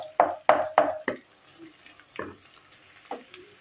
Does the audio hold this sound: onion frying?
yes